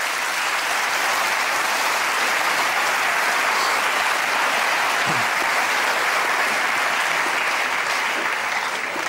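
Studio audience at a televised cooking duel applauds steadily, a dense, even wash of many hands clapping that holds at full strength for the whole stretch without fading.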